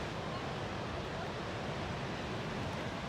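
Rough Pacific Ocean surf breaking continuously, a steady broadband wash of waves with some wind rumble, heard alone without talk at moderate level.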